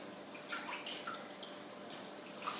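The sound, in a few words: rinsing olives in water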